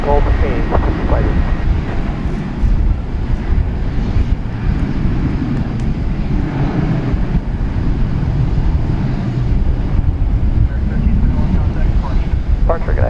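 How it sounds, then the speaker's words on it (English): An Airbus A321 jet, American Flight 1092 bound for El Paso, rumbles at DFW Airport at night, a steady low engine roar mixed with gusty wind noise, while a voice talks over it. "American Flight 1092 to El Paso, and Airbus A321 is what that is."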